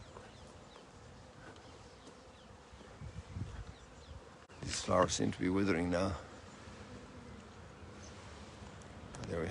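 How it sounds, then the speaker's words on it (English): Bees buzz faintly near withering flowers outdoors, a low droning hum that swells for a couple of seconds in the middle, while someone talks calmly over it. "There we have two bees."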